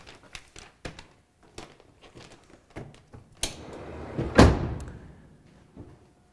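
Car door closing during interior detailing of a vehicle: a loud, close slam with a rustling build-up just before it, following a run of scattered light knocks and handling noises.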